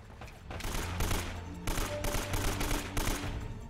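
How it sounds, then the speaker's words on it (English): Burst-fire gunshots from a weapon in the video game Uncharted: Drake's Fortune, rapid clustered volleys repeating steadily for several seconds at moderate loudness with no talk over them. "Burst fire, burst fire, burst fire."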